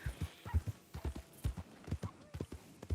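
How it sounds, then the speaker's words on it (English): Wild horse hooves clip-clop at a steady trotting rhythm in the Red Dead Redemption 2 game world, soft and fairly quiet, with dozens of evenly spaced hoofbeats. "I didn't know you got wild horses in this direction."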